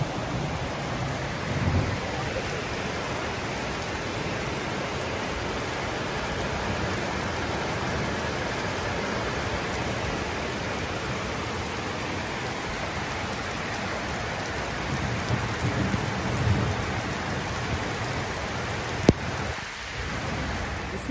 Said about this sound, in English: The power went out because of another downpour.